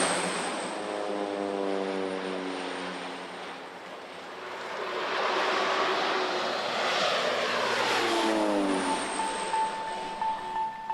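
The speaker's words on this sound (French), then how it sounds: "commence l'étrange balai des avions au-dessus des plantations" Propeller crop-dusting planes pass low over banana plantations in the late afternoon, the engine drone rising from distance to a loud overhead pass with a falling Doppler pitch, then receding.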